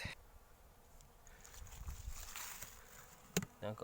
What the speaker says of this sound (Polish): Nie wiem, czy słyszeliście. Są pszczoły.